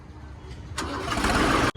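A low engine rumble builds, then a Swaraj 735 tractor engine catches with a sudden roar and runs noisily for a moment before a brief cut.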